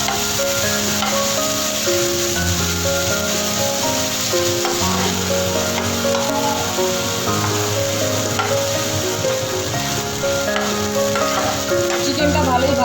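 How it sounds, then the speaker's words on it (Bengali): Marinated chicken pieces fry steadily in a pan, giving a continuous sizzle that runs unbroken under constant background music. "চিকেনটা ভালোই ভাজা হয়ে গেছে,"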